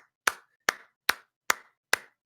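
Five sharp, evenly spaced claps ring out about half a second apart, close and loud with nothing else around them, a round of applause for the NHS.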